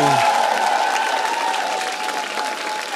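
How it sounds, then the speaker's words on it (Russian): A comedy talent show audience claps in a dense, even burst that fades slightly, with a voice talking over the applause. "Аплодисменты, это был Андрей Семчук."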